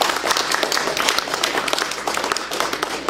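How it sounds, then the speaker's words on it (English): Audience applause in a room, dense continuous clapping from many hands at an even, fairly strong level for a few seconds, with no speech over it. "A round of applause for Mrs. Shirley."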